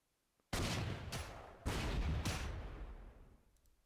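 Artillery in the video game Panzer Corps 2 fires in two loud, booming blasts, each followed by a rumbling tail that slowly fades out.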